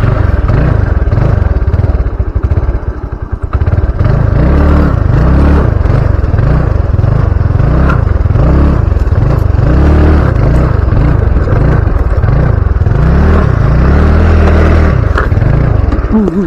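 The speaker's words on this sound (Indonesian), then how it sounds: "Ini saya akan mencoba menaiki motor ini." A motorcycle engine drones loud and steady throughout a ride, with a rhythmic rising-and-falling pulse and heavy rumbling wind and road noise close to the mount.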